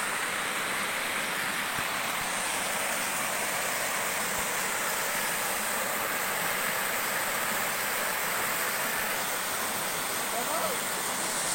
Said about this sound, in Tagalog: ito na po yung Mapita Falls. So mapapansin po ninyo, mabilis po yung agos ng tubig.